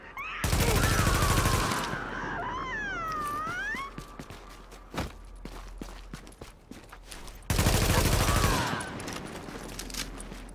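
Automatic sentry turrets fire in The Division, with two long, loud bursts of rapid gunfire at the start and near the end, scattered single shots between, and a whining electronic tone over the first burst.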